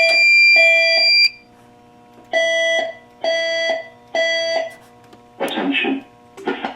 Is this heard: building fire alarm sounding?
yes